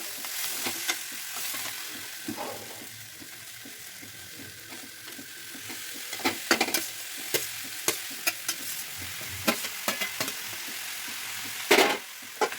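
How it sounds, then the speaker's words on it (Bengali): Pre-boiled vegetables sizzle in a hot wok, a continuous frying hiss broken by repeated scraping stirs and clacks of the spoon against the metal, growing busier toward the end, close and with no talking. "আগে থেকে সেদ্ধ করে রাখা সবজিগুলো এবার কড়াইতে দিয়ে দেব।"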